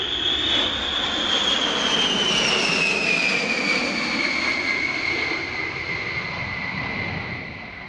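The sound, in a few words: Boeing B-17 bomber Sally B flying past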